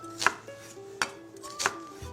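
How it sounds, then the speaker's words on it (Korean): A knife dicing an onion on a cutting board, with three distinct sharp chops spaced well apart, close and clear with no talk. "슬라이스 말고 깍둑 썰어 준비해 주세요"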